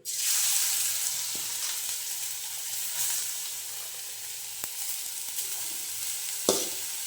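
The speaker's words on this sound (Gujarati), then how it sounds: "હવે આપણે તેલમાં એને નાખી દઈશું ઘીમાં" Grated carrot dropped into hot ghee for carrot halwa, setting off a loud, close burst of sizzling that settles into steady frying, with a few spoon knocks and stirs along the way.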